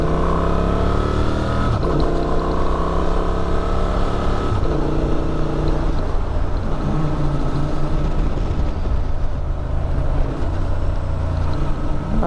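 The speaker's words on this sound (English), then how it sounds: "The Honda's quick shifter, it's a little clunkier than the BMWs, but definitely works." A Honda XL750 Transalp motorcycle engine revs loudly and steadily, with a few audible upshifts through the quick shifter that drop the engine note before it climbs again, dominating the close-up sound throughout.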